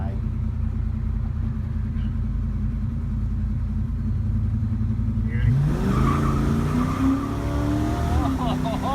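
A car out on a ride rumbles with a steady low engine drone, then climbs in pitch as it accelerates hard toward the end, its revs rising over continuous road noise.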